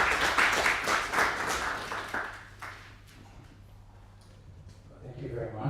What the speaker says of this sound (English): please give a warm round of applause to welcome Dr.